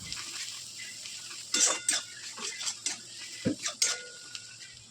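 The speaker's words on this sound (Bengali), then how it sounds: "একটু ভালো করে নাড়িয়ে নেব" A spoon stirs Kashmiri chili powder and cumin powder in a pan for mutton mince, making a handful of light metallic clinks and scrapes in an irregular rhythm, close and fairly quiet.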